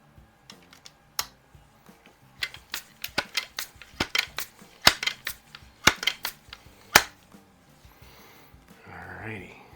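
A Sheridan Blue Streak air rifle loaded with JSB pellets gives a close run of sharp clicks and snaps at an irregular rhythm, ending with a brief rustling murmur.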